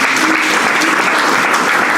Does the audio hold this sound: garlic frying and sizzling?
no